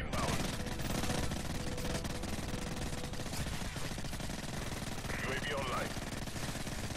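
Rapid automatic gunfire rattles in Call of Duty Modern Warfare 3 online play, dense bursts running steadily throughout, mixed with game effects and voices of players talking over it.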